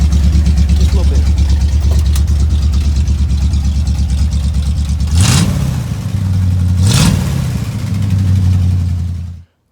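A 1974 Ford F100 engine idling loudly and close, blipped twice into short, sharp revs that fall back to a steady idle before it stops.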